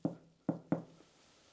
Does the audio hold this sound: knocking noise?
yes